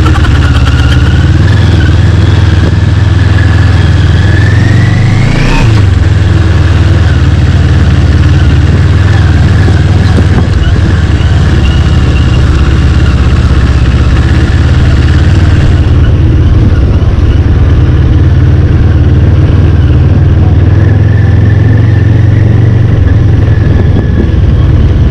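An NK400 off-road motorcycle engine runs loud and close, a steady rumbling idle with a brief rev partway through and continuous mechanical hum throughout.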